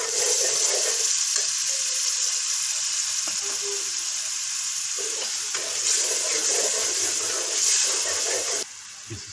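Arbi curry masala with ketchup and yogurt stirred in sizzles and fries steadily in a pan for Punjabi arbi ka salan, a loud continuous crackle with occasional stirring scrapes.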